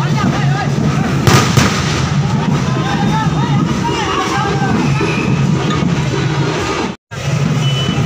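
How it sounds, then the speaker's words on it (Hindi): Firecrackers fired through a pipe during a Ganesh immersion procession in Jharsuguda crackle and pop against a dense, continuous crowd din, with one sharper burst standing out early on. The noise stays loud and steady throughout, cutting out only for a moment near the end. "अभी यहाँ पर दोस्तों देखिए पटाखा फोड़ रहे हैं, ये पाइप का जरिया से ये पटाखा फोड़ते हैं"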